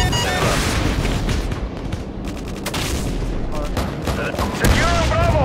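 Dense video game gunfire in a multiplayer shooter match, with rapid automatic bursts, booming shots and explosions rolling on throughout, loud and continuous, mixed with in-game voice callouts.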